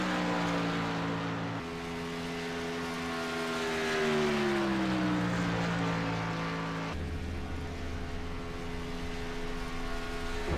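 Race car number 64 turns a solo qualifying lap on the clock, its engine a steady, loud drone that climbs and falls in pitch through the corners, with no voices over it.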